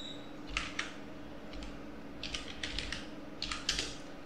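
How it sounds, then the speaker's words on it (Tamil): Fingers type English letters on a PC keyboard in short bursts of quick, crisp key clicks, with brief pauses between groups, close and moderately loud over a low steady hum. "இப்போ நான் இங்கிலீஷில் டைப் பண்ணுறேன்"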